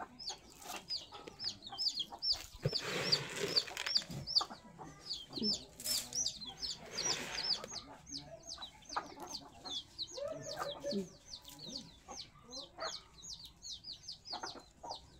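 Hens cluck steadily in a busy flock, with short repeated calls and occasional louder squawks, close by and without talk.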